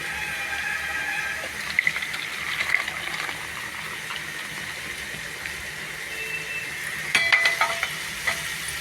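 Tempering sputtering in hot oil for a raw mango rasam, a steady close sizzle with small crackles and pops that flare louder near the end.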